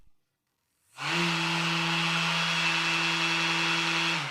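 A Mirka Deros electric sander starts up after a moment of silence, then runs at a steady, even whine with a low hum, measured from one metre away, without voices.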